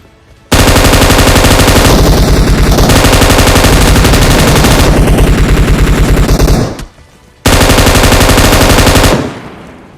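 A battle royale video game blasts loud, sustained automatic gunfire in rapid bursts that stop briefly near the end and then resume before fading out, with no voices.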